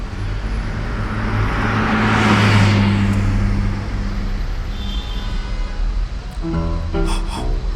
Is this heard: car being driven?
yes